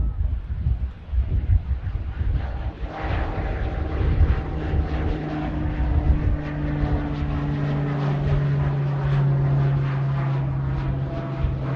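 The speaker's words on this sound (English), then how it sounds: "Here goes a Pilatus PC-12 with Silver Aviation. Already up in the air." A Pilatus PC-12 single-engine turboprop of Silver Aviation climbs out from Manchester Airport, a steady propeller drone with a sustained tonal hum that holds moderately loud across the whole stretch.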